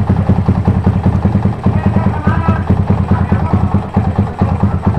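A motorcycle engine idles with a steady, loud, lumpy clatter while its PE 28 carburetor is tuned, the pulsing beat slightly uneven and continuing throughout.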